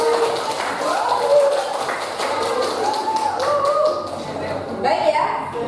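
Students in a classroom clap for classmates who presented a lesson conclusion, giving a scattered, uneven round of hand claps under chatter and a little laughter, the clapping rising and falling over several seconds.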